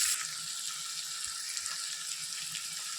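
Corn kernels for chevdo frying in a pan: a steady, gentle, bright sizzle and hiss with faint crackles, heard close up and alone without talk.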